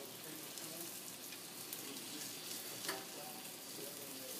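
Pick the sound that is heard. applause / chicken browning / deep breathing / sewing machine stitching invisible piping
chicken browning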